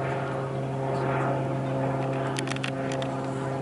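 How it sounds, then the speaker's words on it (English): Propeller plane climbing at the Southport Air Show, a steady droning engine hum heard from a distance with some faint crowd noise. "So while the plane's climbing,"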